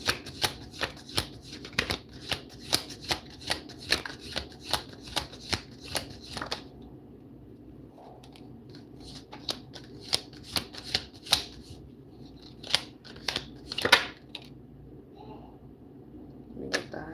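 Tarot cards are riffled and shuffled up close in quick snapping bursts, a fast run of crisp flicks at first, then sparser clusters of shuffles with short pauses between them.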